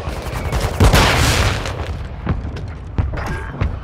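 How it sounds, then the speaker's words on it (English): An airstrike explodes in Call of Duty Warzone 2 as a loud, close boom rolls out, followed by a scatter of sharper cracks and smaller blasts that fade off. "Friendly airstrike in the AO."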